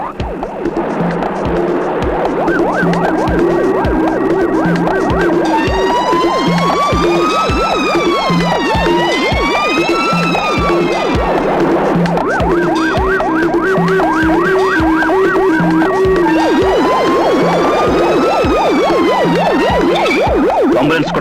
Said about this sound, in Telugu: మహర్షి ఇక్కడ ఉన్న వాళ్ళందరినీ కొట్టి అంబులెన్స్ తీసుకొని పారిపోతున్నాడు.